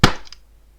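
A grenade explosion sound effect for a video game, a single short, sharp blast that hits hard and fades quickly with a brief ringing tail.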